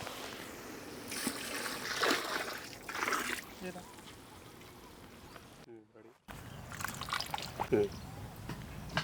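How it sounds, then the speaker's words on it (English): Water is poured into a cooking pan of homestyle American chop suey, making a splashing, trickling pour close up, broken by a brief silent gap, with a voice talking over parts of it. "Now I am adding water."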